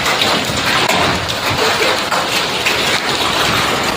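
Hailstones fall steadily in a dense, loud patter on open ground and hard surfaces after returning from a farm field, a continuous close rattle with scattered sharper impacts throughout.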